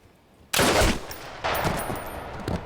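Gunfire from the TV series Band of Brothers, a sharp loud shot followed by a second blast with a long echoing tail, heard alone and close.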